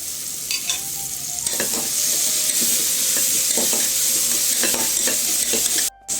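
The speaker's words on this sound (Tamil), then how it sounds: "புதினா நல்லா சுருள வதக்கிக்கிறேன்" Loud steady sizzling of mint leaves sautéing in a pan for Ramadan nonbu kanji, with repeated scraping stirs of a utensil throughout and a brief dropout near the end.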